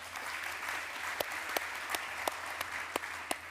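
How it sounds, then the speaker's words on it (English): Audience applause at a technology conference as an executive is welcomed on stage, a steady wash of clapping from a crowd with a few sharper individual claps standing out near the front. "give him an applause"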